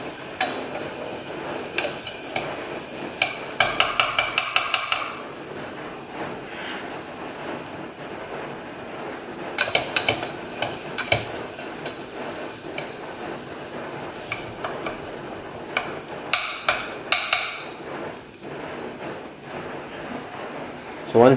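Turmeric, chili powder and coriander powder frying with onions in a pan for aloo methi, a steady soft sizzle with intermittent stirring scrapes and clinks.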